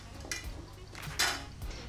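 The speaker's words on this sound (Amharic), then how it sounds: "ነጭ ሽንኩርት ጨምራለሁ እንደዚህ ጨፍልቄ።" Garlic cloves crushed for a Mediterranean tarator sauce served with fish, heard as a few dull thuds and scraping knocks against a dish or board, close and fairly quiet, with no talking.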